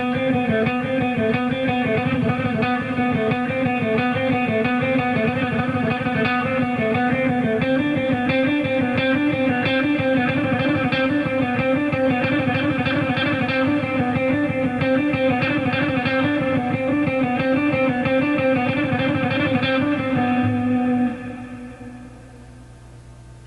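A fast electric guitar speed exercise plays continuously and loudly for about twenty seconds, a dense stream of rapid picked notes that stops abruptly and leaves a brief fading tail.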